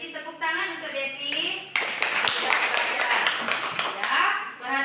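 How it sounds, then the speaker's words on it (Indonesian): Classroom audience clapping hands for a student, a brisk burst of applause mixed with talking voices, rising in the middle and fading toward the end. "Tepuk tangan untuk Desi"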